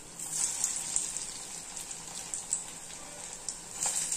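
A puffed rice cutlet fries in oil on a dosa pan, giving a soft, steady sizzle with scattered little pops and crackles, close but fairly quiet.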